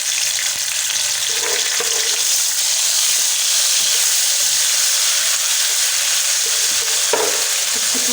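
Tomatoes fry in a pan for turnip bhujia, making a bright, loud, unbroken sizzle with soft stirring scrapes now and then, close up and with no talk.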